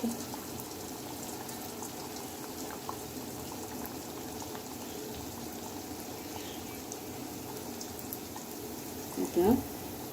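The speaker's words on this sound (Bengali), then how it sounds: "এখন আমি একে একে সবগুলো পিঠা ভেজে নিব।" Rice flour pitha frying in hot oil makes a continuous bubbling sizzle at moderate volume, with a short louder burst of spattering near the end.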